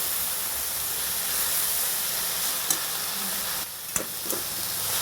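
A steady, even hiss of shrimp steaming and sizzling in a pan with a sprinkle of water over low heat, continuous throughout with a couple of small clicks and a brief dip in level.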